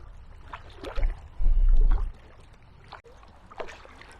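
Kayak paddle strokes splash and drip on Loch Lubnaig in Scotland, a few soft close splashes with a louder pair of strokes near the middle, over quiet wind and water.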